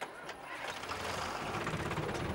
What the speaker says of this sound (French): Je ne conduis pas souvent un tracteur.